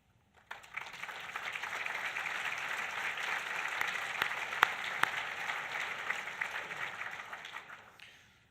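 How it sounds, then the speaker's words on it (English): An audience at a chamber of commerce State of the Cities address in Bismarck-Mandan applauds a standing team, a steady wash of many hands clapping that swells quickly, holds for several seconds with a few sharp individual claps, then tapers off. "would you please give them all a round of applause?"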